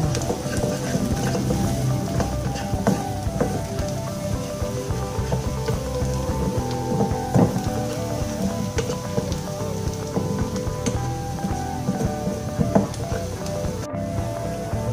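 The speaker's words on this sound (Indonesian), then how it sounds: "kita masukkan bawang putih dan kita tumis lagi hingga bawang putihnya masak" Garlic and onion sautéing in a pan for a black pepper beef filling, a steady dense sizzle running continuously throughout with occasional small crackles, no talk.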